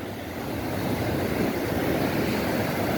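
Continuous surf at Praia de Piedade beach on the Boa Viagem border, a steady broadband wash of waves that swells slightly after the first half second, with no voices.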